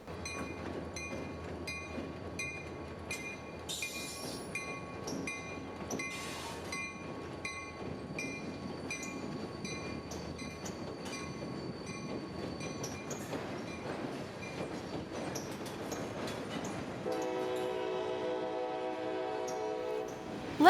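A long CSX freight train on street-running track in Florida rumbles past with steady clattering and metallic squeals, and a horn blares near the end.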